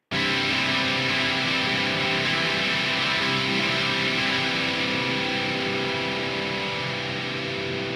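An electric guitar on a distortion patch plays a riff, with a loud dense distorted tone holding steady throughout and no one speaking.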